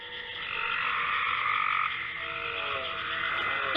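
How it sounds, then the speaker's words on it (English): A frog croaks continuously nearby, a dense, rattling trill that holds steady for several seconds, with no other voices. "That's a frog!"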